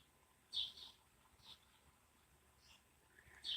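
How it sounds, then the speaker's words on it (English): Robins and a blue jay calling nearby outdoors, a few short, bright chirps spaced apart over faint background hiss, fairly quiet and without talk. "there's a family of robins next to me and a blue jay"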